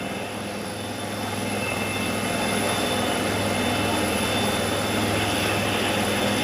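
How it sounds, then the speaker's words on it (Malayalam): An Air Force helicopter arrives at a school ground in Kalpetta, its steady rotor and engine roar loud and continuous, building slightly over several seconds with no talk. "കോഴിക്കോട് നിന്നാണ് എയർഫോഴ്സിന്റെ ഈ ഹെലികോപ്റ്റർ ഇപ്പോൾ കൽപ്പറ്റയിലെ എസ് കെ എമ്മിന്റെ സ്കൂളിലേക്ക് എത്തിയിരിക്കുന്നത്"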